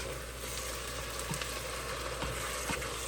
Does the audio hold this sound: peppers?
yes